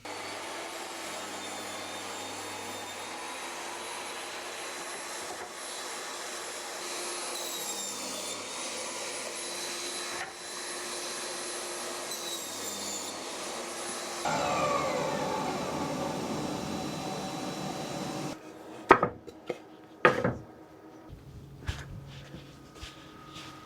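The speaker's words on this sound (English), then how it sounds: "while I've got that cross-cutting blade and the table saw, let's go and cut the bits for that." A table saw with a cross-cutting blade whines steadily for a long stretch while cutting wood pieces for a garden screen base. The pitch shifts midway, then the saw stops and sharp clunks and knocks of handled wood follow.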